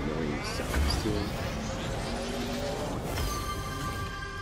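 Car boost effects in Rocket League, whooshing and squealing game sounds with rising tones layered over engine noise, fairly loud and continuous.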